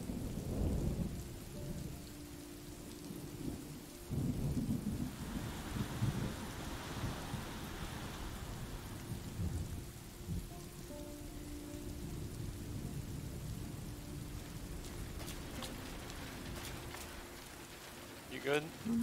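Rain pours steadily with thunder rumbling through a storm in the video game Road 96, a continuous wash of downpour with deeper low rolls, voices talking over it at times.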